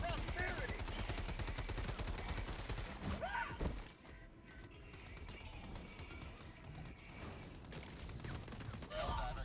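Rapid semi-automatic shotgun fire in an online shooter game, dense bursts of loud shots packed through the opening seconds, a brief lull, then more distant gunfire and game effects with a voice talking over it.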